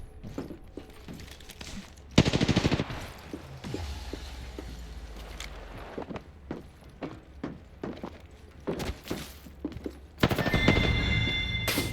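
Video game gunfire crackles in scattered single shots and rapid bursts, with louder volleys near the start and end and footsteps and clatter in the quieter gaps.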